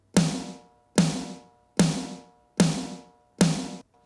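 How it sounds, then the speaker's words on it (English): Five crisp snare drum hits struck alone at an even, steady pace, each with a sharp attack and a short ringing decay. "Here is my snare sample,"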